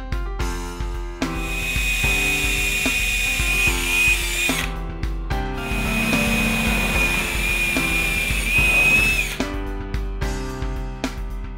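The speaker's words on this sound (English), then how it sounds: "I'll pre-drill a hole here and then screw the legs on" Power drill pre-drilling and driving screws to attach legs onto a vintage trunk being made into a coffee table: two long whining motor runs with a steady high pitch, separated by a short pause, close and loud.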